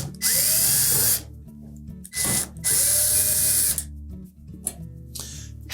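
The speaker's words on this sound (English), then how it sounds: "next we'll remove the screws across the top" Power drill backing screws out of the top panel of a Samsung dryer, loud whirring bursts of about a second each with short pauses between, close up with no talk.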